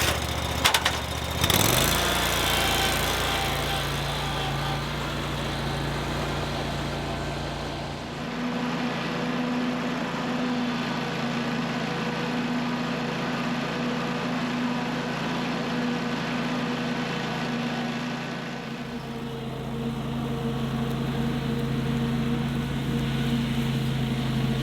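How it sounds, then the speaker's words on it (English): A John Deere 652R mower runs while mowing, its engine a steady, loud drone with a constant hum that shifts slightly in tone partway through, close by with no talking. "But now I can do some more mowing and see if that makes a difference on my cut."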